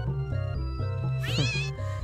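A cat meows in the video game Secret of Evermore, one rising, wavering electronic-sounding mew over steady looping game music with stepping beats.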